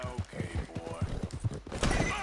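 Galloping hooves drum quickly and rhythmically beneath a loud whinny toward the end, from a horse in Red Dead Redemption 2, close and prominent.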